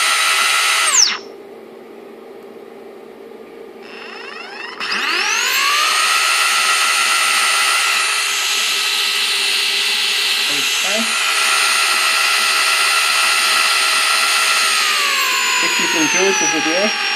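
A brushless DC motor driven by an ESC at very high RPM gives a piercing steady whine that winds down early, spins back up around five seconds, holds a high pitch, then shifts lower near the end.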